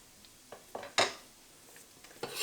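Grated ginger scraped off a grater into a dish, a few short scrapes and taps of utensil on dish, close and fairly quiet, the loudest scrape in the middle.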